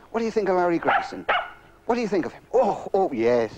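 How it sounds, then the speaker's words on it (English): Pet dog barking in short, loud yips and woofs, several bursts in quick succession interleaved with a voice talking close by. "That's my dog"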